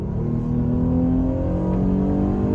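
Steady engine roar from a 2019 Jeep Cherokee Limited with a 3.2-liter V6 under acceleration, a smooth rising hum heard from inside the cabin, sustained and moderately loud with no voices.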